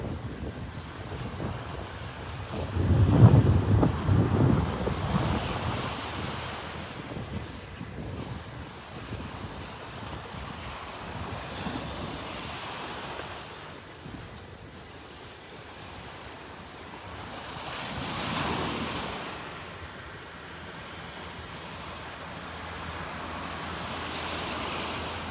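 Ocean surf rolls in along Vanderbilt Beach in North Naples, a steady wash of breaking waves mixed with gusty wind buffeting the microphone, swelling louder early on and again midway.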